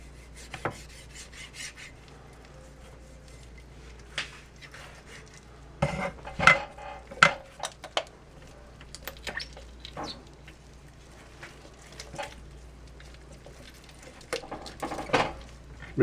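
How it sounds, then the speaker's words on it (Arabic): A knife works through a whole chicken, jointing it into pieces: soft scraping and rubbing with scattered clicks and sharper cracks of blade meeting bone and board, close by and intermittent over a low steady hum, with no talk. "لازم تستعينوا لما تقطعوا الدجاج، تستعينوا بايدكم بقوتكم وبالسكين"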